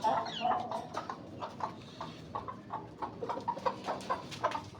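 Several hens clucking softly and steadily in short, irregular bursts, close by, with faint background noise.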